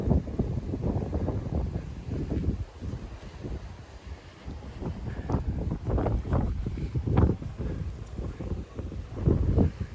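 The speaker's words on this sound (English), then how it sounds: "Most of the wind's coming from that way, so I guess it's windier on that side of the like point here." At an exposed coastal point in a large city park, wind gusts buffet the microphone in uneven rumbling bursts that rise and fall, loud and close, without any talking.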